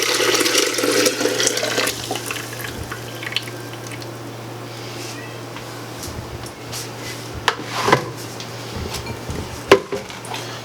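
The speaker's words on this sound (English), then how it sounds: "So now let's pour this back in the blender" Nut milk made with Brazil nuts is poured back into a blender, a splashing stream at first that settles into softer trickles, with a few light clinks of kitchenware.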